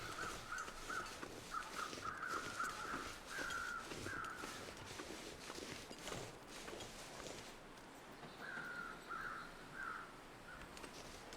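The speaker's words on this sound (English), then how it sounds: "Should I try to take down a bird?" Crows caw in short repeated bursts across a survival video game landscape, with soft footsteps and ambient game sound underneath; the calls come in clusters early and again near the end.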